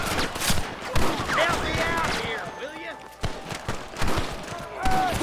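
Scattered gunshots in the Western action game Red Dead Redemption, with a few sharp cracks spaced across a shootout as shouting voices and chatter dominate throughout.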